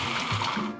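A food processor grinds roasted peanuts into a thick paste, letting out a strained, continuous motor whir that labors briefly and then drops off near the end.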